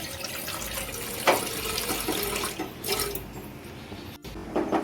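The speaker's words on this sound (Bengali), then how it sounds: "দিয়ে দেবো অল্প পরিমাণে জল" A small amount of water poured into an idli maker, a close, steady trickling splash running through the whole short stretch with no talk.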